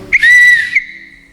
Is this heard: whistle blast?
yes